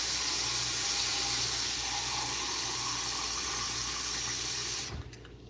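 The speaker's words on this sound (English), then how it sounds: "Don't want to put too much water because I want this to boil in the microwave" Water pours steadily into a cup for a microwave ginger and cinnamon drink, a close, loud rushing hiss that runs for several seconds before cutting off abruptly, with no talk.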